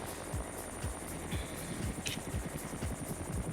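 Helicopter in flight over a sled-dog race trail, heard as a steady, continuous rotor thrum with a faint rhythmic chop, fairly close and without speech.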